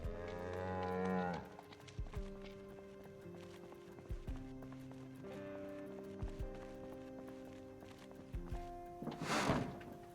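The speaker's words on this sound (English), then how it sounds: "I'm just hearing these cows." Cattle moo in Project Zomboid, long, low, tonal calls that overlap through a steady ambient bed, with occasional thumps and a louder breathy burst near the end.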